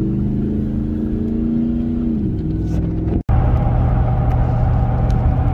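Ford F150 pickup on 33-inch tall tires with 4.10 gears accelerating onto a highway, a loud close engine drone that shifts pitch, a sudden drop, then a steady stronger whirring rumble.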